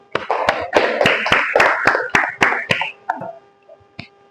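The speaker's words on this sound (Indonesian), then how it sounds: "Ya, beri tepuk tangan," A classroom of students claps in a quick, uneven rhythm of about a dozen sharp claps, thinning out and stopping near the end with a few faint sounds after.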